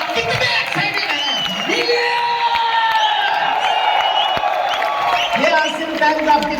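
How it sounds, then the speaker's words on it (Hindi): A crowd at an RCM Diwas launch event in Bhilwara cheers and whoops with a few claps, a dense sustained roar of many voices close by with scattered shouts rising above it. "तो जोरदार लॉन्चिंग करें, शानदार तालियों के साथ दिखा दें।"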